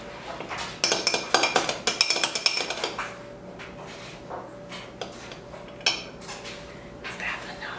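A metal utensil stirs inside a pot while buns are being made at home, starting with a rapid burst of clinks and scrapes, then a few scattered knocks, close by.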